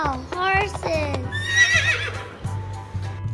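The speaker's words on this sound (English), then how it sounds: "Horses. Wow, horses." Horses whinny in a loud, quivering call near the start followed by a longer high neigh, set over a bouncy repeating music beat with a voice singing along.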